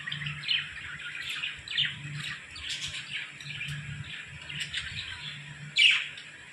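Small birds at a feeding spot chirping and calling in short, repeated bursts, fairly close and moderately loud, with a louder squawk near the end over a faint low background hum.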